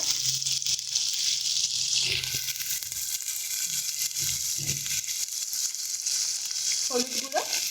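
Ground spices, including turmeric, dried red chilli and coriander powder, sizzle steadily in hot oil in a pan for a Bengali fish dish, with occasional scraping and stirring sounds over the constant crackle.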